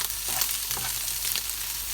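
Spinach, bacon and potato fry in a pan for a frittata, giving a steady close sizzle with faint stirring scrapes and no talk.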